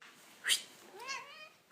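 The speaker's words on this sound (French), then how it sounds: "Oh mon dieu, c'est le chat." A cat gives a short meow followed by a longer, rising and falling meow, close and fairly clear against a quiet room.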